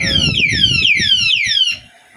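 An alarm padlock sounds a loud, close electronic siren of repeated falling chirps, over a low background hum, cutting off shortly before the end.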